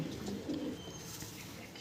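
A Lal jiriya pigeon gives a soft, low coo, two brief murmured notes close by and faint against a quiet background hum.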